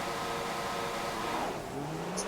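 F1 2015 video game race start with Formula 1 cars accelerating off the grid, a dense engine roar with rising whines sweeping upward as cars pull away, steady and loud throughout.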